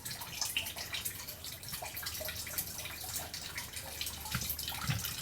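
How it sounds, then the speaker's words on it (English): Engine coolant drips from a Nissan 370Z / Infiniti G37 raised on a workshop hoist, a faint, steady patter of drops against a hissy background with no voices. "as soon as this coolant finishes bloody dripping out"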